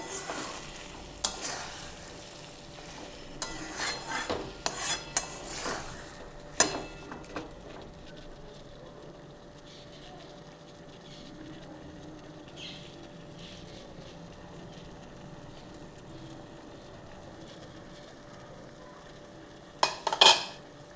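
Chicken curry fries in a pan. A burst of spoon scrapes and clanks against the pan opens it, a soft sizzle carries through the quiet middle, and a few more clatters come near the end.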